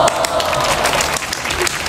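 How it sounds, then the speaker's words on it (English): A short burst of clapping, a fairly loud and dense patter of hands, runs throughout with a voice faintly mixed in. "Can you get a clap for that one?"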